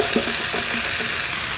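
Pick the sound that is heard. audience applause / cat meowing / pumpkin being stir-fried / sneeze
pumpkin being stir-fried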